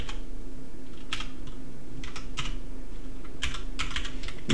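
Keys clack on a computer keyboard as an email address is entered during an Ubuntu VNC sign-up, coming in short bursts of quick typing with brief pauses, close and clear with no talking.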